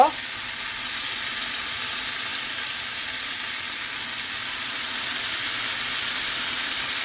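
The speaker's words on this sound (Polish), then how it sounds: "na rozgrzaną patelnię, słuchajcie, rzucamy nasze placki. Posłuchajcie tego." Steady, close sizzling of pumpkin and parmesan pancake batter frying in a hot pan, a bright crackling hiss that swells slightly louder partway through, with no voices.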